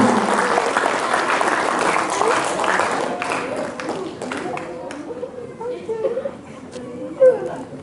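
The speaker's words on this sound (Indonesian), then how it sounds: "Tepuk tangan dong." A crowd of children and adults claps at an outdoor poetry reading event in Purwakarta. The applause is fairly close and fades after a few seconds, giving way to scattered voices and talking.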